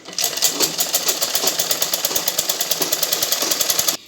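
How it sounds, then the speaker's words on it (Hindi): A sewing machine runs steadily stitching along a drawstring on a 42-inch blouse, a rapid even clatter of needle strokes close by, continuous for about four seconds before stopping abruptly. "ऐसे दोनों तरफ डोरी पे सिलाई आ जाएगी दोनों साइड से"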